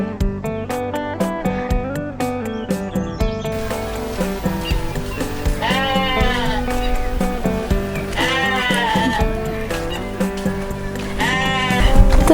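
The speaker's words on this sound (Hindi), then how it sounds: "तो गाइस यहाँ भेड़ के ऊन काटे जा रहे हैं।" Sheep bleating during wool shearing in a Kinnaur village, Himachal Pradesh, repeated loud wavering cries rising over a steady background, close by and with no talk over them.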